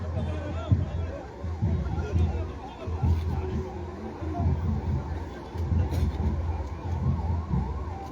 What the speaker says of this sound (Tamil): இப்படிதான் வரும் ஆம்புலன்ஸ்